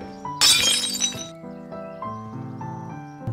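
A plate smashes with a sharp, bright crash and tinkling shards, followed by a short scatter of fragments under sustained background music tones.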